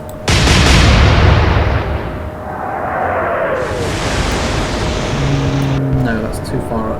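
Naval guns firing in the video game Atlantic Fleet, a heavy, booming roar that swells at once and settles into a sustained rumble, with a voice talking over part of it.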